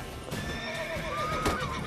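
Panicked horses in The Witcher 3 whinny and neigh loudly, with stamping hooves beneath, in a short agitated burst with overlapping cries.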